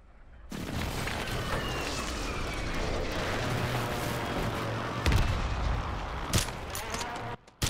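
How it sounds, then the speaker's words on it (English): Airstrike explosions in a video game: a loud, sustained roar of blasts and rumbling fire, with a few sharper bangs near the end. "Friendly airstrike in the AO."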